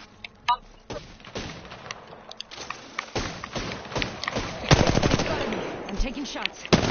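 Automatic weapons fire in an Apex Legends match comes in clustered bursts and single shots, mixed with scattered impacts, and a player talks over the combat.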